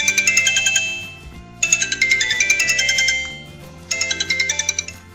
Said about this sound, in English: that's the custom ringtone that you set